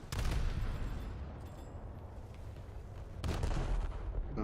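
Battleship gunfire in a naval video game, with deep booming salvos at the start and again near the end over a continuous low rumble, heavy and resonant.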